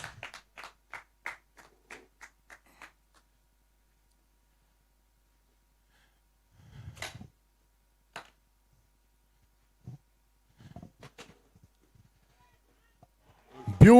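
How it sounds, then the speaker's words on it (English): At a cricket match, a batsman is applauded with a short run of distinct handclaps, then scattered faint claps and a few soft vocal sounds, ending in a sudden loud burst. "A big round of applause for the batsman."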